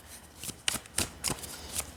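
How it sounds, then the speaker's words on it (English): Self-Love Oracle cards being shuffled by hand, a run of crisp riffling bursts in an uneven rhythm, close and fairly quiet, with no talking. "They shuffle just fine."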